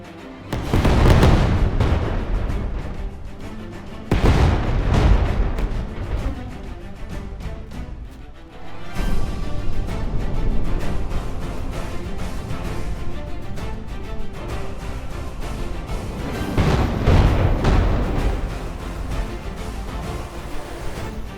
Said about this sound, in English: One volley of missiles is more than enough for it.